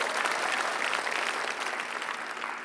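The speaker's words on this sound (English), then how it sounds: "ask you all to give a round of applause to my mayor" Steady, sustained applause from an audience, a dense wash of clapping that stays loud throughout and tapers slightly at the end.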